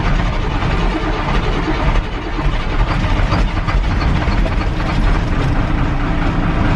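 Cummins 8.3 liter diesel engine in a Ford L8000 truck running steadily after start-up, a loud, rough low rumble with knocking texture that holds throughout.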